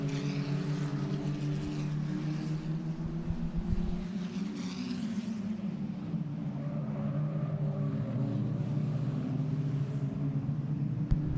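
Racing cars from round 3 of the ICCR 2024 series stream through Campion corner side by side, their engines a steady mid-distance drone with rising and falling pitch as the cars pass.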